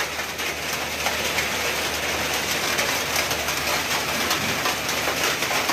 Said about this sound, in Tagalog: Umagang umaga, ulan na.